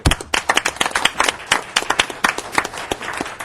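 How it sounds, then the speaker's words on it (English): A small audience at a city charter review commission meeting claps, giving loose, uneven close handclaps with distinct individual strikes that carry on steadily for a few seconds without speech. "I'm going to applaud you."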